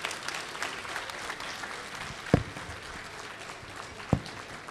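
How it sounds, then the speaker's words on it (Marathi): Audience applause for Laxmanrao Deshpande at a Nanded anniversary comedy event: a steady, moderately distant spread of clapping throughout, with two sharp louder claps or knocks standing out near the middle and end. "लक्ष्मणराव देशपांडे सरांसाठी जोरदार टाळ्या झाल्या पाहिजेत"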